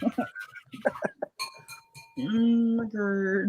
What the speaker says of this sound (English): that's the sound of a paintbrush getting tinged off the end of the glass.